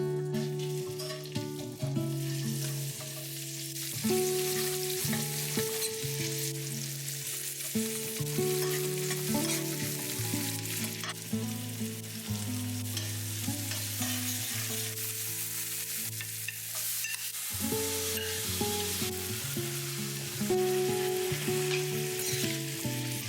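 Chole being tempered in hot oil with julienned ginger, tomato and onion, sizzling steadily and densely throughout, with tonal background music running underneath.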